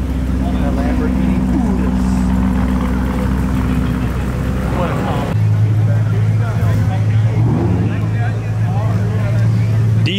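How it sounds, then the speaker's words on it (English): An Audi R8 pulls away, its engine a steady low drone that shifts pitch midway, heard close and loud beneath lively talk and voices nearby. "D3 Motorsports rolling out in the R8."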